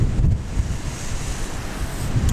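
Strong wind blows across a coastal landscape, its steady rumble buffeting the microphone over a broad wash of noise that may include surf.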